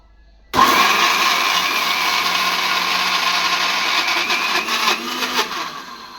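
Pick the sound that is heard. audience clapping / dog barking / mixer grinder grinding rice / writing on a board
mixer grinder grinding rice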